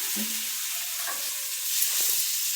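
Water sprinkled onto a hot griddle while making sesame rotis, a steady sizzle with a hissing wash across the clip, growing a bit louder toward the end, with faint clinks and scrapes underneath.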